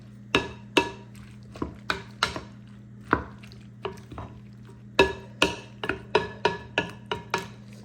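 Spoon knocking and clinking against a bowl while mixing shrimp and crab ceviche, a dozen or so sharp taps in an uneven rhythm, close and distinct over a steady low hum, with no talk.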